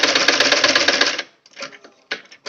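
A sewing machine stitches sleeve fabric in a fast, rapid-fire run for about a second, then stops, followed by a few short clicking bursts of handling.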